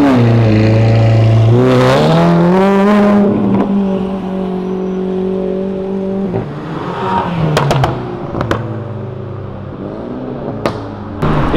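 A sports car accelerates hard along Avenida Europa, its engine rising in a loud revving climb with strong harmonics, then easing off as other engine sounds and brief sharp noises follow.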